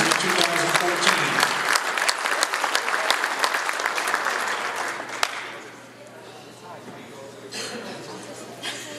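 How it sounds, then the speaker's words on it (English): Banquet audience applauding the top 10 hobby stock racers of the 2014 season, a dense, loud round of clapping for about five seconds that thins to scattered claps, with a crowd murmur underneath. "we give our top 10 all a big round of applause for their wonderful season of 2014"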